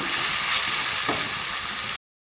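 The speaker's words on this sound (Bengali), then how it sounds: "আর লঙ্কা পেস্ট এই মশলার সাথে আমি ভালোভাবে রসুনের গন্ধটা যাওয়া অবধি আমি ভেজে নেব" Tomato, ginger, garlic and chili paste with spices fry in a pan, a steady close hiss of sizzling oil with a brief stir partway through, then cutting off abruptly.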